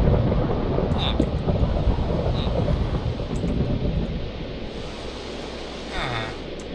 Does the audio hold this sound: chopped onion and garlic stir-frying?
no